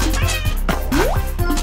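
Cartoonish cat meows from the video game Pizza Panic, several short mews with one long rising meow in the middle, over steady game music.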